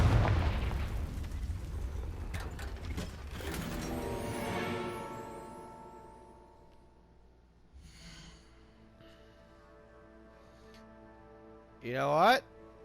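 A Confringo blasting spell goes off in the Hogwarts Legacy video game: a loud booming blast opens, then a long rumbling decay under game sounds, and a sharp whooshing burst comes near the end.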